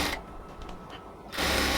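A sewing machine stitches luxury cotton ladies' pants, whirring loudly at the start, dropping to a quieter stretch, then surging back into a loud steady run.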